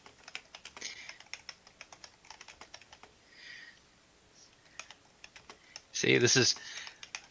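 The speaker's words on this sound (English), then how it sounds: "Sorry, this is a little boring to hear clickety clickety" Quick, irregular clicks of typing on a computer keyboard, near and moderately loud, come in bursts with short pauses. A brief louder noise interrupts near the end, and a voice speaks briefly.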